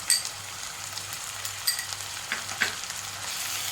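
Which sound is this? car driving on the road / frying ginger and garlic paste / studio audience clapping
frying ginger and garlic paste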